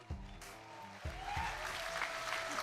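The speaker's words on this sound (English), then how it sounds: "So give it one other cheer for Mod tonight" Audience applause and cheering fill an esports event arena at a Summoners War Europe Cup, a loud sustained wash of clapping and crowd noise throughout with a few louder bursts.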